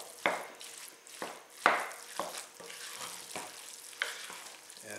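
Diced onion and meat stirred in a frying pan for stuffed peppers, sizzling steadily with several distinct scraping stir strokes at irregular intervals, close up and with no talking.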